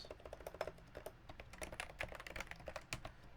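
Typing on a Realforce TKL keyboard with 90 gram domes, R1 housings and sliders, Ursa keycaps and a PBT spacebar: rapid, even, muted thocky keystrokes, quiet and close, with no voices.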